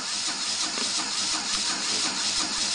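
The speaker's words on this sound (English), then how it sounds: "running the second motor immediately has an influence on the compressor motor" A small compressor motor in a fischertechnik pneumatic model runs steadily with a continuous whirring buzz and faint hiss, close and even throughout.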